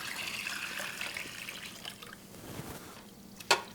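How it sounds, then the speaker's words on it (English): Eight cups of cold water poured into a bowl of turkey brine, a steady splashing trickle that thins and fades, ending with a brief sharp clink near the end, with no talk. "now I have 8 cups of cold water. I'm just going to pour that in there."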